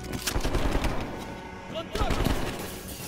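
Rapid automatic gunfire and shotgun blasts in the first-person shooter Call of Duty Black Ops Cold War, loud and continuous bursts throughout with a brief lull in the middle, while players shout over the shooting.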